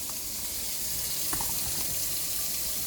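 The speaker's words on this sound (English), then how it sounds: "washing out my pot" Tap water runs into a cooking pot as it is rinsed out in a kitchen sink, a continuous close hiss and splash with no talking.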